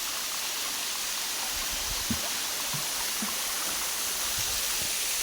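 Yaganak Falls in Calauag, Quezon roars as a steady broadband rush of falling water, constant and fairly loud, with a few faint low thumps and gurgles underneath and no voices.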